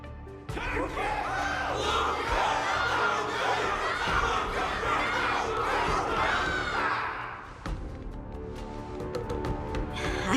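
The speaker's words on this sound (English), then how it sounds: "Can't you hear? Everyone's cheering for you, Luca!" A large crowd in the video game Luminary Wardance roars and cheers loudly for several seconds, then the noise breaks off and quieter scattered sounds follow.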